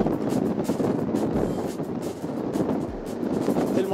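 Strong wind on a bridge decked with garlands, buffeting the microphone in a continuous, dense roar with gusty surges that swell and ease throughout.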